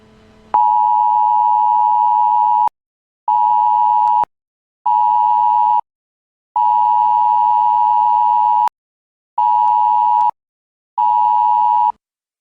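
Emergency air raid alert tone warning of missile strikes, sounding as loud electronic beeps of one steady pitch, six bursts of uneven length separated by short silences, with no voices.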